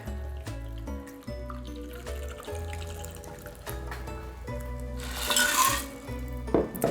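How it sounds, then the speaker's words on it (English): A Mai Tai cocktail is poured over ice into a small glass. Liquid splashes and trickles over the cubes, swelling near the end, with steady background music underneath. "then you pour it over ice in a smaller glass like this"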